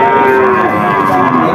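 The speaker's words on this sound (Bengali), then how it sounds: "এই যে গরুটা দেখতে পাচ্ছেন," A cow at a busy cattle market gives one loud, close, drawn-out moo that fills the whole moment.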